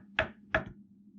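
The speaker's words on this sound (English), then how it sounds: "She knocks." Two crisp knocks on a painted bedroom door ring out close and distinct, about a third of a second apart, followed by quiet.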